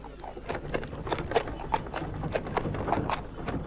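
Hooves clip-clop in a steady walking rhythm, moderately close, over faint background noise.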